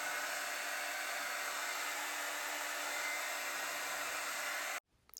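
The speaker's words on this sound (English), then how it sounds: "I then used a diffuser to set the waves." A hair dryer with a diffuser attachment blows a steady, loud, airy whoosh without a break for nearly five seconds, then cuts off abruptly into a brief low rustle.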